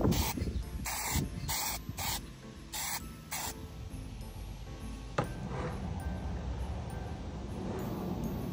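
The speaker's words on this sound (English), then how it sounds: "I think I'm gonna spray that before I attach it." Silver spray paint hisses from an aerosol can in about six short bursts, close and loud, followed by quieter background noise.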